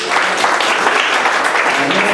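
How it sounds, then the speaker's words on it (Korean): Young adults in a church worship service clap to welcome newcomers, a loud, close burst of many hands applauding evenly over about two seconds. "박수로 환영할게요"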